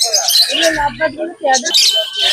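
Lovebirds and conures at a bird market give loud, close chirps and squawks in quick, busy bursts, with a voice talking briefly among them.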